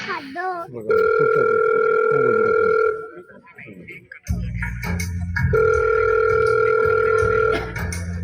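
A telephone rings as a mother calls her son, with two long, loud electronic ringing bursts separated by a short pause and a low hum, and people talking in the background.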